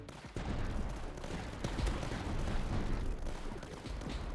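Long-barrel artillery fires in the strategy game Tower Dominion, a steady volley of overlapping booms and blasts at moderate volume with sharper individual shots breaking through.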